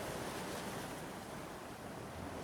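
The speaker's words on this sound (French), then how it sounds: "Les vagues s'écrasent doucement sur le rivage, créant une mélodie apaisante" Steady broadband wash of Pacific Ocean surf breaking gently on an Australian shore, continuous and even with a slight wind rush, no voices.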